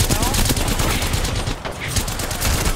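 Rapid, sustained gunfire in the battle royale game Apex Legends, dense and loud throughout with bursts blending into a continuous barrage and faint talk underneath.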